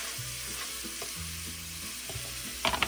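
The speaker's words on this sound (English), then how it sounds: "we're going to saute the onions" Onions sauté in melted butter for sauerkraut and pork ribs, a steady sizzle with low clanks from a pan or utensil and a few brighter crackles toward the end.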